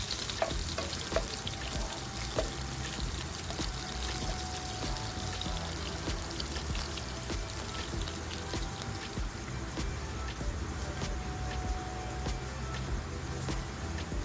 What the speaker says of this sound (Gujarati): 3 લીલા મરચાં કટિંગ કર્યા તે એડ કરીશું અને ચમચાની મદદ સારી રીતે મિક્સ કરી દઈશું અને તેલમાં ફ્રાય થવા દઈશું